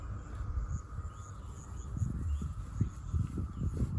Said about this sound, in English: there's one of those cicadas